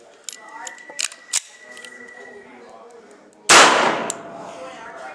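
A single sharp gunshot from an AMT Automag II .22 Magnum pistol fired one-handed, loud and close with heavy muzzle blast, following a few metallic clicks and handling noises.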